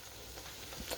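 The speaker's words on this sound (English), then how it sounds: "Sauteing okra and onions." Okra and onions sauté in a hot pan with a steady close sizzle and faint crackles throughout, no voices.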